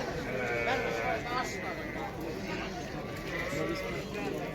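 Sheep bleat over and over in the crowded din of a livestock market, with people talking throughout.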